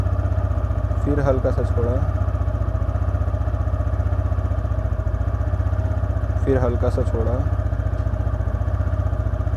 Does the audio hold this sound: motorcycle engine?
yes